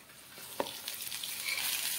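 Green chillies and peanuts fry in a pan for sabudana khichdi, a quiet sizzle that builds slightly over a couple of seconds, with one brief sharp tap near the start.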